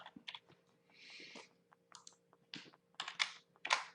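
Quick bursts of typing on a computer keyboard, irregular clusters of crisp key clicks close to the mic in a quiet room, with a short pause in between.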